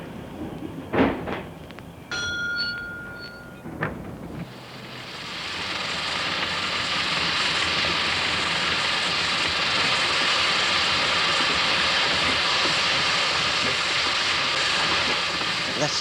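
Old steam ploughing engine running at a steam event, a loud, continuous hiss of escaping steam that rises after a few seconds and holds steady, preceded by brief mechanical knocks and a short whistle-like tone, with someone talking.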